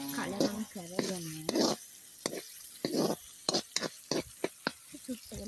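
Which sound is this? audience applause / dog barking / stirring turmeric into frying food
stirring turmeric into frying food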